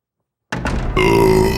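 A loud, close burp from a character in Resident Evil 3: Nemesis, a short onset followed by a sustained, droning belch with no talking.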